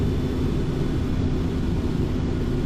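Jet engines of a Hawker Siddeley Trident 2E in the X-Plane flight simulator produce a dense, steady low roar with a faint high whine, constant in level throughout.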